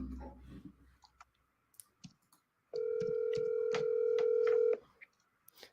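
A run of telephone dialing clicks, then a long steady DTMF keypad tone at close range, quieter clicks following, with no talk.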